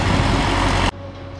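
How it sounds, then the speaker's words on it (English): A tractor on a road in a small Russian town rumbles loudly and close, a broad, dense engine roar that suddenly drops to a quieter, steady idle-like hum. "Here comes a tractor"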